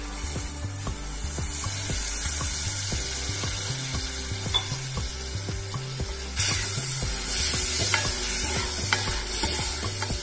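Fish curry gravy bubbles in a pot with a continuous frying-like sizzle and rhythmic low thumps, growing slightly louder and brighter partway through, with no voices.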